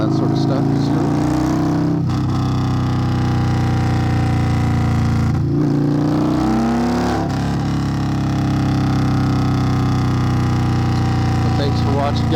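A 2021 Indian Scout motorcycle fitted with a Hacker Mayhem exhaust runs steadily nearby, its loud low rumble holding throughout with brief throttle dips and blips around the middle.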